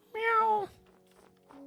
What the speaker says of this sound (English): I can hear a cat close by, going meow.